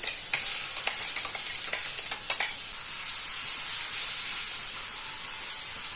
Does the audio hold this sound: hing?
yes